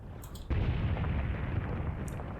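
An artillery shell explosion in the World War II tank game Tank Warfare: Tunisia 1943 lands with a sudden heavy boom, then a long rumbling roar that keeps going while faint whistling sounds pass overhead.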